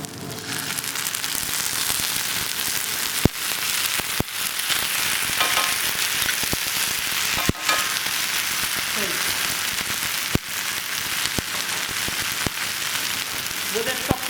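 Onions and chopped tomatoes sizzle loudly and steadily in a hot pan, a dense continuous frying hiss with occasional clicks and scrapes of stirring, in a hospitality school kitchen.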